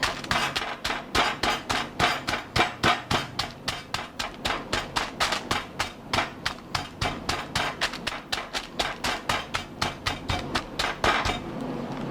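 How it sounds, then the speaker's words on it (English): A butterflied chicken breast is pounded under parchment paper, a long run of steady, evenly spaced dull thumps, close and fairly loud, stopping just before the end. "now you want to pound it."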